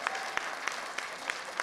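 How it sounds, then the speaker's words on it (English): An audience at a student presentation claps for Dr. Harper, a short burst of steady, moderately close applause with several sharper individual claps standing out. "Give her a round of applause again."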